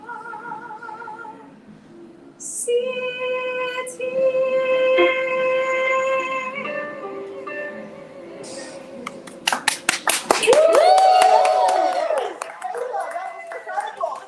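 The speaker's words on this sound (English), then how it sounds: "Another round of applause for Kayla Pecchioni, everyone." After a sung Broadway number with sustained vocal and instrumental tones, a burst of clapping breaks in as the music ends, sharp repeated claps rising to a dense round of applause near the close.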